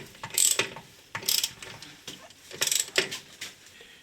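A ratchet wrench clicks in short bursts while tightening an inner nut on the rear axle strut of a Porsche 911 SC, giving several quick, close ratcheting runs with brief pauses between them.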